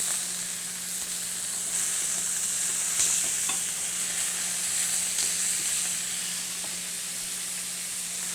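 Steaks searing in a hot skillet, a steady bright sizzle and hiss of fat spitting continuously, close and even, with a faint low hum beneath and no talking.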